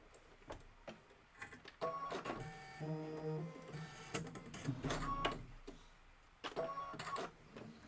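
A sewing machine stitches a handle placement line on a quilted project, its motor whirring in steady bursts of rapid needle stitching with brief pauses between runs.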